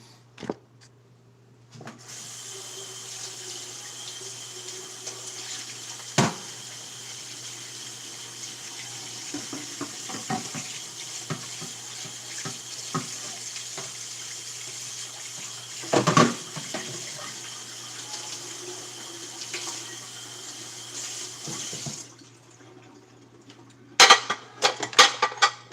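Dirty dishes clatter and scrape as they are washed beneath a running kitchen sink tap, a steady hiss of flowing water throughout with scattered clinks of plates and cutlery, close by and with no talking.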